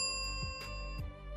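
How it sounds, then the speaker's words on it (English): A bright, clean bell rings out with sustained ringing tones and a couple of soft repeated strikes, close and alone. "let's add a bell sound effect when the correct answer appears"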